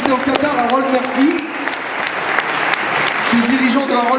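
An audience applauds to welcome a speaker at an evening talk, a dense burst of clapping under a voice speaking over it.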